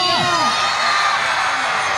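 A large festival crowd at a people's market and arts stage show shouts, whoops and cheers together, a loud, dense and continuous roar with rising voices cutting through.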